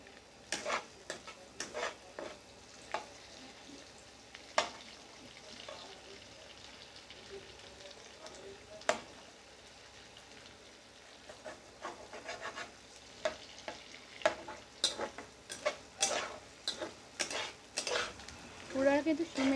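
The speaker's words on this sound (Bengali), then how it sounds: "এবার এতে আমি টমেটো দিয়ে দেবো, টমেটো দিয়ে ভালো করে পেঁয়াজকে কষিয়ে নেব।" Onion and tomato sauté in a pan for a spicy tangra fish curry, with quiet sizzling and a spoon clinking and scraping against the pan, growing busier toward the end, while a voice talks.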